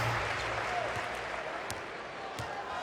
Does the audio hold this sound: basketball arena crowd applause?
yes